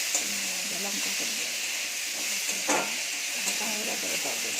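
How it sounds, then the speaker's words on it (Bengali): Potatoes and onions fry in a pan with a steady hiss and sizzle, stirred now and then with a few soft scrapes; a voice murmurs faintly in the background. "পেঁয়াজ আলু দিয়েছি, আলুটা ভালো করে ভাজছি"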